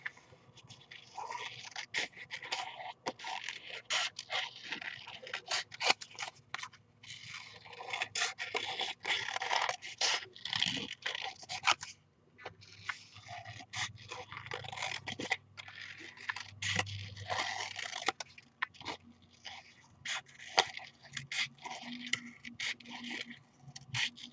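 Paper for a handmade card is trimmed, close-up scraping and crisp cutting strokes with dry scratchy rustles repeating irregularly at low volume, no speech.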